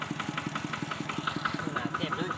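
A Stihl MS180 chainsaw cutting wood runs at a rough, steady idle, its small two-stroke engine putting out quick regular pulses, moderately close and fairly quiet.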